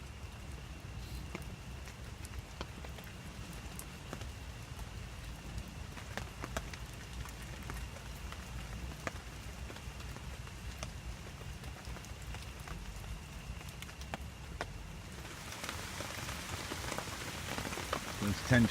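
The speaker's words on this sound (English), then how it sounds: "It's still raining pretty hard." Heavy rain pours steadily on a campsite at night, a dense constant patter on nearby surfaces that swells slightly louder toward the end, with no talking.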